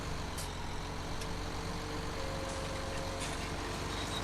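Engine of a crab-steering farm vehicle in Farming Simulator 17 drones steadily at close range, a continuous low rumble with a faint whine, no talking over it.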